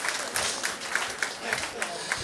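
Comedy club audience at a live stand-up show clapping, a steady patter of applause with rhythmic bursts, moderately distant and faint, mixed with some voices.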